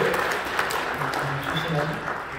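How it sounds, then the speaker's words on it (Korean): Applause fills a church during a thanksgiving service for the ordination of elders and deacons. It is a steady, continuous clatter of clapping from a crowd, with a voice speaking over it throughout. "뜨겁게 박수해 주시기 바랍니다"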